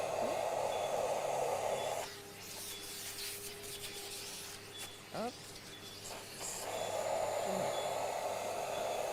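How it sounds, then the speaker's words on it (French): A loud vacuum cleaner drone cuts off for a few seconds, then starts up again, with scraping and a brief spoken word in the quieter gap. "Est-ce que le bruit de l'aspirateur dérange ou ça va?"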